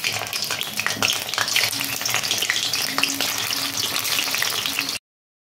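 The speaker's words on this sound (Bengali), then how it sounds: "তো আমি সেইভাবে এই তেলের মধ্যে এগ পনিরগুলো দিয়ে ভেজে নেব" Egg paneer pieces fry in hot oil with a dense, continuous sizzle and crackle close by, loud and steady for about five seconds before cutting off abruptly.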